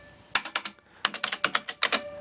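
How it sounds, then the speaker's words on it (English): Keys clack on an original IBM 5150 mechanical keyboard in two quick bursts of sharp, close strokes separated by a brief pause, with no voices present. "really nice mechanical key switches built in"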